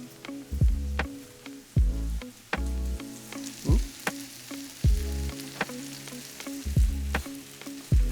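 Cabbage fries in a pan with caramelizing onions, a steady close sizzle broken by regular thuds and scrapes of stirring, about ten even strokes, with no voices.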